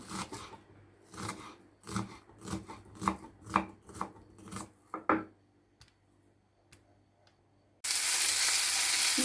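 Quick knife chops through onions on a cutting board, a steady run of sharp thuds that slows and stops, then a loud hissing sizzle starts abruptly near the end.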